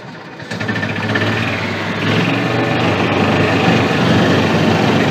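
A custom-built six-wheel John Deere Gator utility vehicle runs with its engine at a steady idle, loud and close, holding an even hum throughout with no speech.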